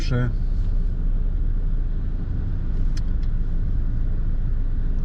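A car drives along with a constant low engine and road rumble heard from inside, a brief tonal chirp at the start and a faint click later.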